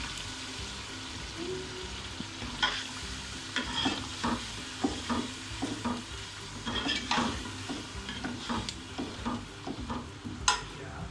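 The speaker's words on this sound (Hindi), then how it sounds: "इसको हम 2 से 3 मिनट के लिए बस भूनते हैं" Beef keema biryani masala with curd frying and being stirred in a pan, with steady sizzling and repeated scraping, clinking spoon strokes, close and fairly loud.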